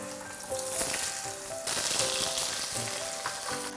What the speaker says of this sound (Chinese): 那我们就可以将这个板豆腐呢下锅煎。